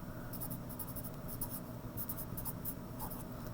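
A pencil scratches out small annotations on a drawing of a real-life object, the strokes coming in short repeated bursts of close, steady scratching with no talking.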